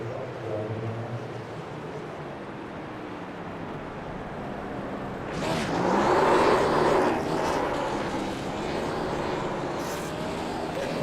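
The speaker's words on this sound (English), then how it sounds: "Larry does some burnouts here on the front stretch," Race car burnouts on the front stretch at Homestead after a Cup Series win in a racing video game, a steady engine drone that swells into a louder, rougher roar of spinning tires partway through, with commentary running over it.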